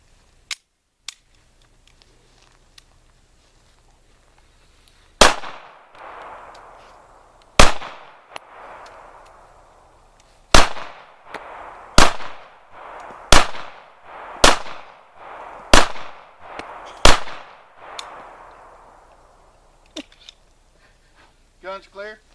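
An H&K P7-M8 pistol fires about eleven sharp, loud shots, spaced a second or two apart with echoing decay, followed by a few faint clicks of handling afterward.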